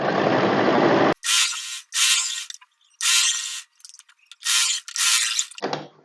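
A sewing machine stitches down the side seam of a semi-Patiala salwar in bursts of rapid, close mechanical whirring separated by short pauses, with a murmur of a voice at the very start.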